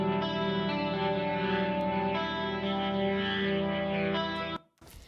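A guitar preset played through a Boss GT-1 effects unit, a thick sustained chord drenched in chorus, distortion and echo that rings steadily, then cuts off sharply near the end.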